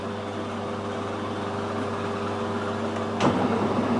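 Lathe cutting an internal Acme screw thread with the clutch engaged, a steady low motor hum with tonal whine, followed by a sharper burst as the cut begins near the end, close and moderately loud.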